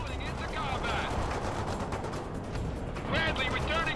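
Gunfire from a Bradley armored vehicle in the World in Conflict strategy game, a dense continuous roar of shots and explosions with game voices talking over the battle.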